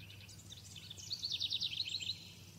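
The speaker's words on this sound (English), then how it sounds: "Bird sound." Short bird chirping and tweeting sound effect playing in a Unity game under development, a quick bright warble of trills lasting about a second, faint and alone over quiet room hum.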